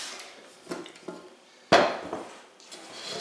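A bundt cake pan for a pumpkin cake is set down and handled in a kitchen, giving a few clanks and knocks with one sharp metallic clatter midway, close and fairly loud with no talking.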